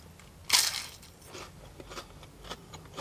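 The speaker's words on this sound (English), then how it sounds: "It's really crispy. The batter on the outside is so crunchy and light." A close bite into a crispy battered potato scallop from a chip shop gives one loud, sharp crunch, followed by quieter crackling chews.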